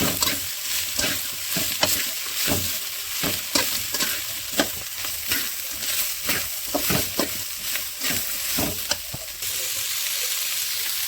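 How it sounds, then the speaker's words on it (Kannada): Tomato and mint chutney frying in a pan, a steady loud sizzle broken by regular scraping strokes of a spoon stirring, close and continuous with no talking. "ಎಲ್ಲ ಸೇರಿ ಒಂದು ಐದು ನಿಮಿಷ ಚೆನ್ನಾಗಿ ಫ್ರೈ ಮಾಡಿಕೊಂಡ್ರೆ ಸಾಕು"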